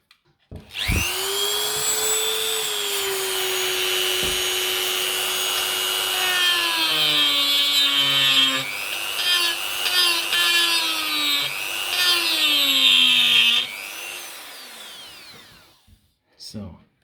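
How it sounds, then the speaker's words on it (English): Dremel 3000 rotary tool fitted with a carving bit grinding along wooden edges, a loud high whine that shifts pitch under load, then cuts off near the end. "This one is also from Dremel, and it's meant to carve, and I will try it on the edges."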